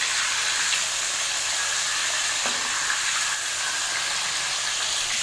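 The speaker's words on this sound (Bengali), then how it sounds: "এর মধ্যে আমি এক এক করে মাছগুলো উল্টিয়ে নিচ্ছি।" Fish pieces seasoned with turmeric and salt sizzling in hot oil in a pan while being turned one by one: a constant loud bright hiss and crackle, close and unbroken, with a faint clink partway through.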